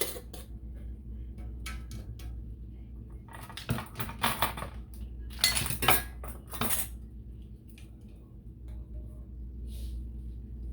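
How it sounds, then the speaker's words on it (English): Metal canning jar lids clink and rattle as they are placed on jars and twisted finger tight, a cluster of close, sharp clicks in the middle, with quieter handling before and after. "Put your lids on. and tighten only finger tight."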